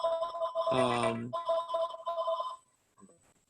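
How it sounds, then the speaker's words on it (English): A telephone rings with a bright, warbling electronic tone in repeated bursts, fairly loud and close, then stops, leaving near silence in the final second. "somebody get the phone"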